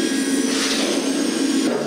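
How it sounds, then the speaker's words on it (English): Whirring hair dryer from the Bubble Guppies Good Hair Day video game, a steady airy blowing hum that holds at even loudness for about two seconds with no talking. "And don't forget the Hairo hair dryer."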